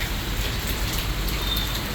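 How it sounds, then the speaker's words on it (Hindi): Heavy rain pours steadily outdoors, a dense continuous hiss of falling water with no pauses, fairly loud and unbroken, with no talking. "तो काफ़ी तेज आ गई है बारिश।"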